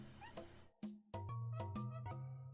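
Cat meowing in several clear, drawn-out cries with short gaps between them, close and fairly loud against a quiet background.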